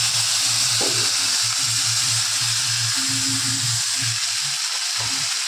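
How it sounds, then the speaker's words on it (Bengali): Spices and masala being fried in hot oil for a fish curry make a loud, continuous sizzle close by, with a low hum beneath it. "মশলা দিয়ে কষিয়ে নিচ্ছি।"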